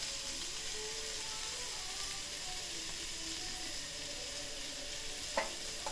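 Onions frying in a pan with turmeric and garam masala, cooked outdoors in a garden, give a soft steady sizzle with faint stirring scrapes and a sharp clink near the end.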